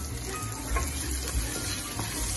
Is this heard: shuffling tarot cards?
no